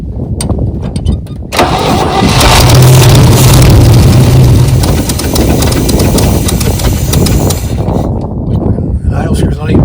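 A 1969 Chevy C10 pickup engine, a long-neglected field and junkyard truck, catches after a short crank and runs loud and rough at a steady idle for several seconds, then sags slightly near the end.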